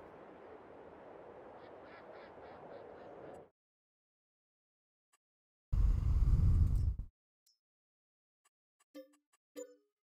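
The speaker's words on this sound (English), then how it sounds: "Might be cheaper for me to sell the chickens and the ducks" Ducks quacking in the farming video game Farming Simulator 22, with a steady noisy ambience at first, a loud burst midway, then a couple of short, clear quacks near the end.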